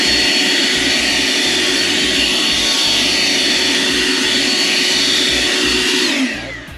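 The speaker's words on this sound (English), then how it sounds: "Take your blower and blow them back into the yard." A leaf blower roars loudly and steadily close by as it pushes fertilizer granules off concrete back into a yard, then winds down at the end.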